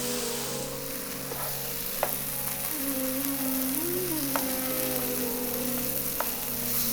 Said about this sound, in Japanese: トマトを潰しながら炒めていきましょう